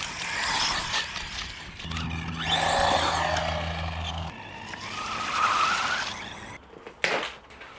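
A Haiboxing 16889 4WD 1/16 brushless waterproof off-road RC monster truck races close by, its motor whining and rising as it speeds, with skidding tire scrapes and a sharp thump near the end.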